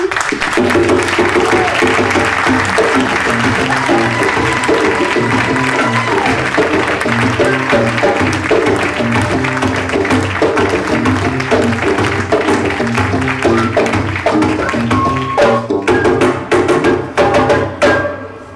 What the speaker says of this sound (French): Et maintenant, j'appelle Gilles Boeuf et on l'applaudit.